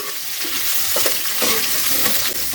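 Spiny gourd (kakrol) pieces and curry leaves sautéing in hot oil, a steady loud sizzle with occasional scraping stirs of a spoon against the pan, close and continuous.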